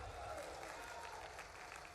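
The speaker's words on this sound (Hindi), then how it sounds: "ताली वाली बजा के बताओ" An audience applauds at a political rally in Guna district for Chief Minister Mohan Yadav, a dense, continuous wash of clapping that stays steady and fairly close throughout.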